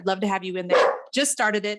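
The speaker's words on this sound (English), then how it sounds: "I'm so sorry that my dog is barking." A dog barks indoors beneath a woman's close, steady speech, with short barks blending in among her words.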